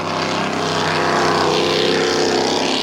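Big-block engines of offshore racing powerboats at the 2003 Suncoast Offshore Grand Prix in Sarasota, Florida, drone in a loud, continuous, throaty roar with slight shifts in pitch, sustained and close over open water.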